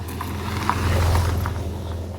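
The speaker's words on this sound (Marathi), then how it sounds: "रिक्षा सारखा आवाज आला पण बाईक निघाली" A motorbike on a village road passes by with a rattly, auto-rickshaw-like engine note, a low droning putter that swells and fades over a couple of seconds.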